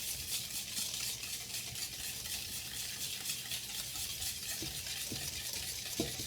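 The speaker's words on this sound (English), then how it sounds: "And we're going to whisk this together." Vanilla and packed brown sugar being whisked in a bowl: a soft, fast, steady scraping rhythm, faint and continuous, with a few light knocks near the end.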